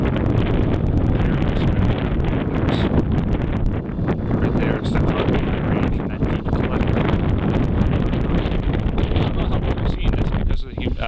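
Strong wind gusts across a summit of South and Middle Moat Mountain, buffeting the microphone in a loud, continuous roar with rustling bursts and no pauses.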